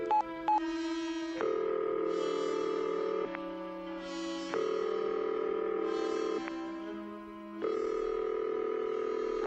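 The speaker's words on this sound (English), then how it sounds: "Let me use the phone." A phone being dialed in a radio drama: a few quick clicks, then a series of long steady dialing tones stepping between pitches, loud and clear with no talking.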